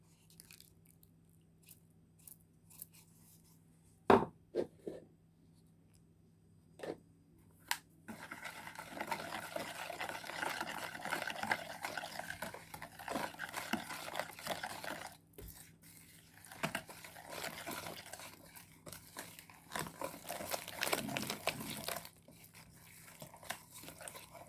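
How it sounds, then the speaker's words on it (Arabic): Sponge cake ingredients are stirred together in a bowl. A few sharp utensil clinks come first, then steady wet scraping and squishing carries on close by and fairly quiet, broken by occasional knocks against the bowl. No one speaks. "نقلبهم مع بعض."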